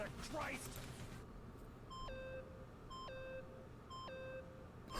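A bomb in a video game gives three evenly spaced electronic beeps, each a falling two-tone chirp. They are fairly faint over a low hum, after a brief muffled voice at the start.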